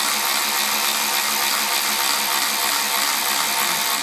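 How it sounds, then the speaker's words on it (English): Power drill driving a self-tapping screw into a 2023 Kia Telluride during a tail light converter install, one loud continuous high whine held steadily throughout with no talking. "So I'll go ahead and get this self-tapper run through."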